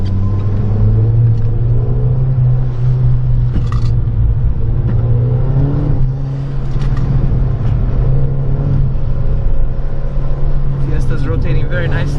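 Ford Fiesta ST car driving an autocross course in the wet, its engine a steady loud drone that surges and eases as the car is thrown through turns, with someone talking over it throughout.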